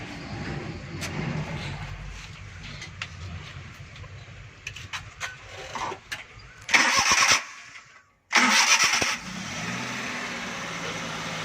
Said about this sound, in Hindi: गाड़ी स्टार्ट करो, रिवर्स गियर लगा के ज़रा सा पीछे करो।